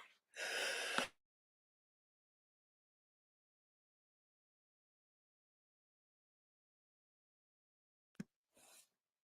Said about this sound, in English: Cough out of nowhere.